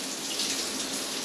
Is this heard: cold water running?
yes